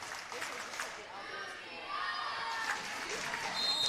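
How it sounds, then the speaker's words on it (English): Crowd noise at a college volleyball match between Carnegie Mellon and Juniata in a gym, a steady moderate roar of cheering and shouting that swells louder in the second half, with announcer talk over it. "Crowd trying to pick up Juniata here."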